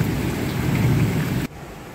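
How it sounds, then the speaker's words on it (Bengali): Heavy downpour during a thunderstorm, a dense roar of rain with a low rumbling of thunder, loud and close, cutting off abruptly to a quieter wash of rain. "বাইরে মুষলধারে বৃষ্টি হচ্ছে।"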